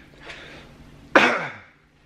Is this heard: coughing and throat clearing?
yes